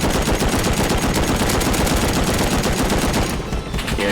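Sustained, dense machine gun fire from an attack helicopter in the survival game Rust, loud and continuous for about four seconds with rapid overlapping shots and a brief dip near the end.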